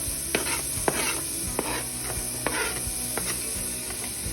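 Diced onion sizzles and crackles in a hot pan, with a steady frying hiss and a few sharp spatula clinks and stirring scrapes scattered throughout, close and moderately loud with no talking.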